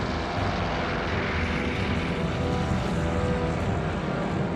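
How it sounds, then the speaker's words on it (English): Military aircraft fly overhead in World War II with a steady, dense engine roar that fills the whole clip without a break. "there was this roar in the air, and we looked up, and there were all these aircraft going over"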